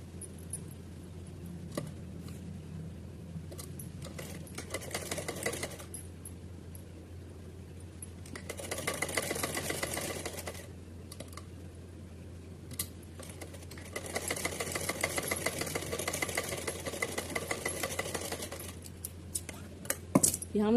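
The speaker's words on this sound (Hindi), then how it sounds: "अभी सीधी सिलाई लगा लेते हैं" A sewing machine runs a straight seam on fabric for a small green deity dress, with several bursts of fast whirring stitching separated by quiet pauses and light handling clinks, heard fairly close.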